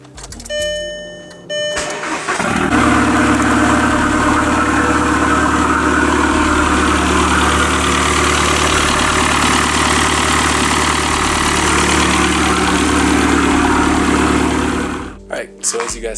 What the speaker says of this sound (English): So we'll fire the car up, see if everything still works